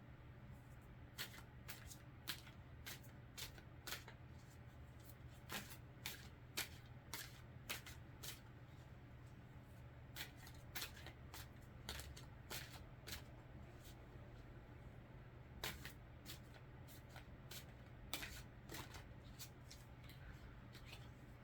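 A deck of oracle cards being shuffled, with quiet repeated riffling and card clicks in uneven bursts over a steady low hum, no talking.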